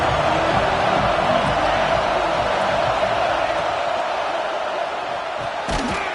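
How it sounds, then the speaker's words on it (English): A football stadium crowd cheers as a steady, loud roar of many voices that fills the air and eases slightly toward the end. "This crowd knows when to bring it."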